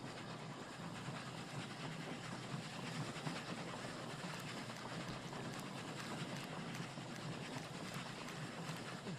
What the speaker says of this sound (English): not that train, this train.